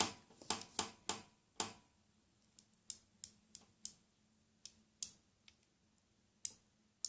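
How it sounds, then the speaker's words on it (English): Dice tapped together by hand in a quiet room, a string of sharp, close clicks in uneven bursts, several quick taps followed by sparser single knocks. "is just tapping the dice against each other"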